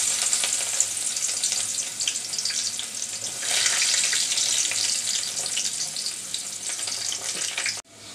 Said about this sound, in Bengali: রসুন আর পেঁয়াজ হালকা ভাজা হয়ে আসছে